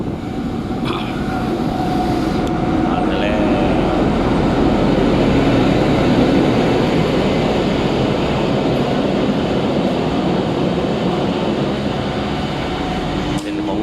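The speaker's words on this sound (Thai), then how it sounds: "หัวรถจัก ลาก ถังปุ๋ยหรือถังปูนซีเมนต์ไม่แน่ใจนะครับกำลังเข้ามา สถานีเชียงรากนะครับ" A locomotive hauling fertilizer or cement tank wagons rolls into Chiang Rak station in Thailand, a loud, continuous low rumble of engine and wagons that holds steady throughout, with some faint higher squeals mixed in.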